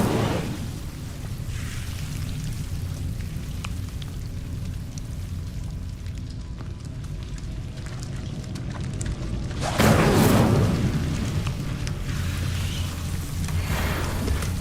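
Fire spell cast in the game Hogwarts Legacy, a low whooshing burst with a rumbling swell near the middle, over steady rain-like ambience and no talk.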